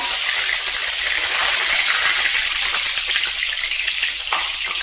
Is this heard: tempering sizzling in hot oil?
yes